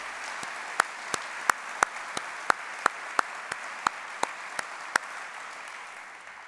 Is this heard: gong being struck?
no